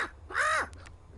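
A single bird caw rings out in the Deponia video game, a short, clear call with a falling tail, followed by a couple of faint clicks in an otherwise quiet scene.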